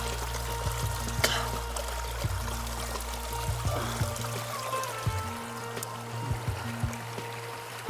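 Water pours and splashes continuously down a small waterfall in a jungle, a steady rushing flow with a low hum running underneath.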